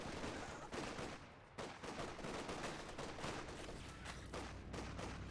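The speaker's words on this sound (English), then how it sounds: "those MGs have been doing quite a bit of suppressive work." Machine gun fire in the real-time strategy game Company of Heroes 2 rattles in dense, repeated bursts with scattered explosions, faint and continuous across the battlefield.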